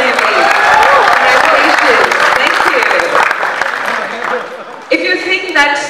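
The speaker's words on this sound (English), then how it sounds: "Guys, can we give you a round of applause for him, please?" A crowd at a creator summit in India breaks into loud, dense applause for a prize winner handed a JBL Bluetooth speaker in a lucky draw. The clapping stays thick and close, then thins and fades toward the end.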